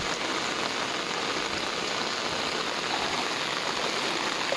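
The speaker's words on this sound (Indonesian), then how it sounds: "Mari hujan pula dah." Heavy rain falls steadily during a December flood at a house, a dense, even hiss of drops on surfaces with no breaks and no talking.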